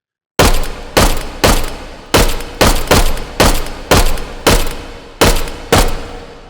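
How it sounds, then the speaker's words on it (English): Ten sharp, loud gunshots from an 11-round-magazine pistol in the VR game H3VR, fired one at a time at a steady pace of roughly two per second, each with a short ringing tail. "Let's take a few more shots with this."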